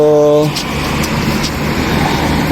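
Busy street traffic near the Corniche by Albida Park, with several cars passing in a steady loud roar of engines and tyres, heard close with a voice speaking over it at the start.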